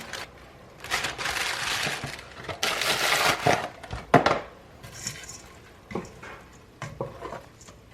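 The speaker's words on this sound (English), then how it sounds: "I am now going to add in the pasta pack and the seasoning for it." Dry pasta pack and its seasoning going into a cooking pot, with scattered clinks, rattles and rustling bursts of varying loudness, close up and without talk.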